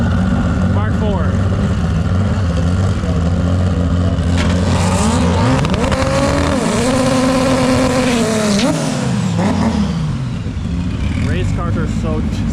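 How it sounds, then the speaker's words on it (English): Race cars at the Pacific Waterland 2023 Volkswagen meet, including a VR6 turbo, rev and roar past close by with rising and falling engine pitch over continuous loud crowd and track noise, with people talking. "Race cars are so cool."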